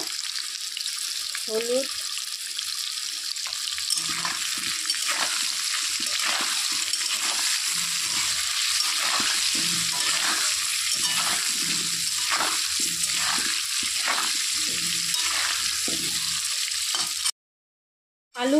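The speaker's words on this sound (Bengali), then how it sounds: "প্রথমে আমি আলুগুলোকে একটু ভেজে নেব" Potatoes frying in hot oil in a home kitchen, a continuous loud sizzle broken by repeated stirring scrapes; someone speaks briefly over it, and the sound cuts off abruptly near the end.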